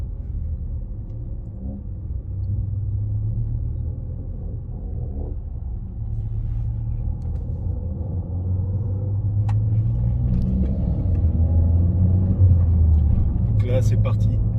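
A Peugeot 208 GTi engine rumbles and builds as the car accelerates along a road, a low steady drone that swells louder toward the end, with someone talking over it.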